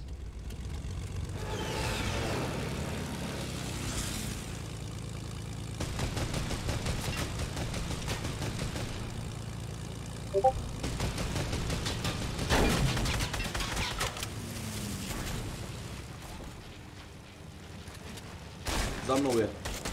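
Gunfire in a Bohemia military video game, with repeated rapid bursts and scattered single shots echoing over a steady engine-like rumble, mixed under ongoing voice chat.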